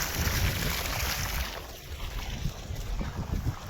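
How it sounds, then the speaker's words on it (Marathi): Water gushes forcefully from the outlet pipe of a solar-powered bore well pump with a motor set about 200 feet down, a broad continuous rushing spray heard close up, slightly uneven in strength. "बघू शकता एकदम मस्त पाणी प्रेशर मारलेलं आहे."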